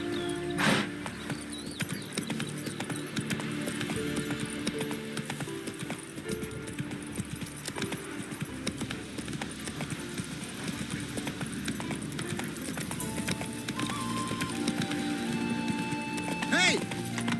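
A horse in The Witcher 3 runs with steady rhythmic hoofbeats under game music and ambience for the whole stretch, while a voice speaks briefly over it.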